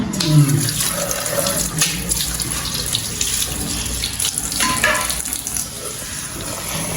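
Food is rinsed under a running kitchen tap, giving a steady, close splash and hiss of water that continues throughout with no talking.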